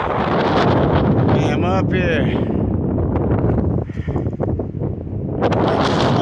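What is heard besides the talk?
wind blowing into microphone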